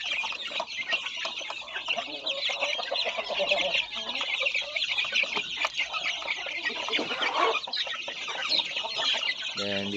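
Free-range native chickens and their chicks cluck and chatter in a dense, lively flock nearby, with overlapping calls running throughout.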